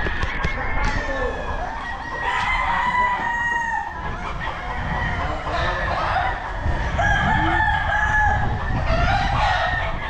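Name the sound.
chickens crowing and clucking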